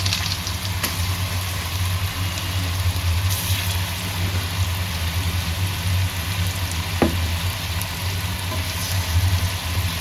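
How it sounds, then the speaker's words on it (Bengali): Chicken and onion frying in a pan with chilli powder and salt, a steady low sizzle with a constant hum, a few faint clicks and scrapes, and no voices. "মুরগিটা ভাজবো তো পেঁয়াজটা একটু দিয়ে নিলাম এখানে"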